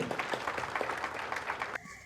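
A crowd applauds at the poster release for the Kerala Vision television award, with dense, steady clapping that stops abruptly near the end.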